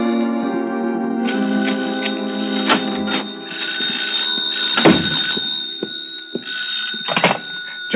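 An old-fashioned telephone bell rings in bursts at a hotel room, sharp and fairly loud, with a steady tone and a few knocks and clunks mixed in, no talking.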